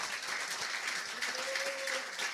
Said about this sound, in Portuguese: Dê o melhor aplauso para Jesus